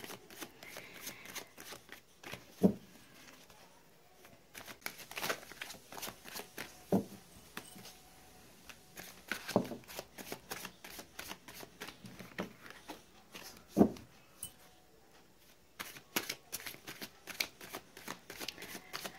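Tarot cards are shuffled close by in a long, steady run of soft riffling and slapping bursts, with a few sharper snaps standing out, and no voices over them.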